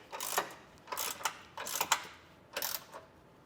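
A 19 mm ratchet snugs down trailer hitch bolts on a 2024 Jeep Wrangler, giving four short bursts of rapid clicking close by, with brief pauses between them and no talking.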